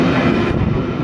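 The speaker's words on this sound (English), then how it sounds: "The train on platform 2 goes." A train pulls away from a platform at Broadmeadow station in Sydney, a loud close rumble of wheels and carriages rolling past with no talk.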